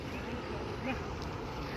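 A duck quacks in a park, a short, faint call heard against steady outdoor background noise.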